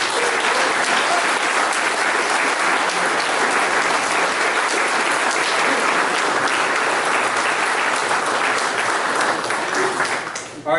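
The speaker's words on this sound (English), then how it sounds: "A round of applause." Sustained audience applause at a US Army retirement ceremony marking 40 years of service, a dense, steady wash of many hands clapping that holds for about ten seconds before tapering off at the end.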